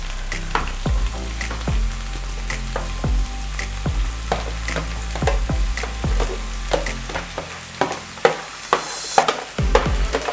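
Chopped leek hits a pan of beef stew meat that has cooked for over 30 minutes on low heat, sizzling loudly and steadily while a utensil scrapes and stirs in repeated knocks.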